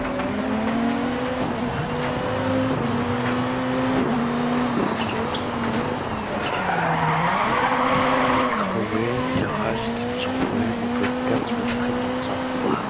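A Ford Focus rally car in the racing game DiRT 4 drones at a steady engine pitch that rises and falls as it shifts and revs, with tyres skidding and scrabbling on loose ground throughout. No one speaks.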